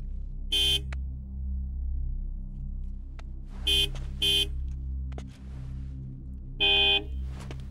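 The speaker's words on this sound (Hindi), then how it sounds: "हॉर्न बजाओ।" Several short car horn honks, one single and a quick double, then another, sounding over a steady low engine rumble with faint clicks.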